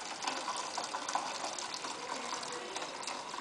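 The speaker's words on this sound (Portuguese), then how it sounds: "daí eu vou colocar a água" Hot water poured into a pan around a pudding mold for baking in a water bath, a steady, fairly quiet splashing gush that runs without pause.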